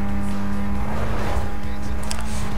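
Race car engines roar steadily in the Need for Speed Most Wanted video game, with a continuous loud drone and a brief tire squeal near the end and no speech over it.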